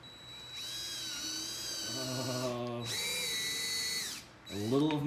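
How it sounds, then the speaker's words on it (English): A power drill bores into the body of a C6 Corvette Z06 during a ZR1 spoiler install, sounding as three close, high whining bursts with short pauses between them. "A little of my soul dies every time that drill goes in."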